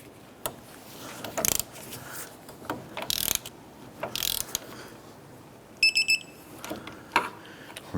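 A ratchet and torque wrench tighten the rear strut nuts to 89 foot-pounds on a 2006-2013 Chevrolet Impala, close by, as a series of sharp metallic clicks and rattles in irregular bursts, including a quick run of rapid clicks near the end, no talking.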